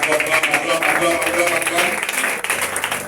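A church congregation applauds and cheers in steady, dense clapping that fills the space, with voices calling out over the applause throughout.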